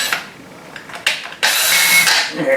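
A power drill bores through a plastic bucket being fitted as a table saw dust collector, with short bursts of whirring before a louder, sustained stretch of drilling near the end.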